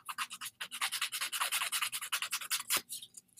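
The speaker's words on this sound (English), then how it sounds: "I just feel like I can control the nail file so much better than sandpaper." A nail file rubbing a jewelry mold, with quick, close, rhythmic rasping strokes repeating steadily for a few seconds before trailing off.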